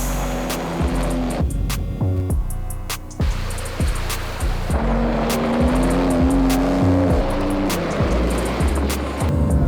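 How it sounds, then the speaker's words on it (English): A Porsche 911 Dakar drives hard on gravel and dirt roads, the engine rising and falling through repeated gear changes, with rough tire noise and loud revving bursts throughout. "Today we are driving the Porsche 911 Dakar, the wildest of all the 911 variants yet"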